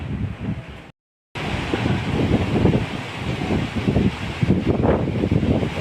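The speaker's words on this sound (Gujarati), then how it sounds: "એકદમ પવન ચાલુ થઈ ગયો છે." A strong gust of wind ahead of a rainstorm, loud and continuous with rough buffeting against the microphone, broken by a brief silent cutout near the start.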